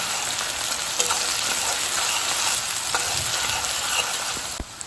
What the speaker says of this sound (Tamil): இப்போ வெங் பச்சை மிளகாவை போடுறேன் அது கூடவே வெங்காயத்தையும் போட்டுடலாம்